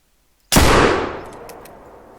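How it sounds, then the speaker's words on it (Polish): A single loud rifle shot fires in the hunting video game theHunter: Call of the Wild, a sharp crack after half a second of silence that rolls off into a long fading echo. "Poszedł dym, poszedł strzał."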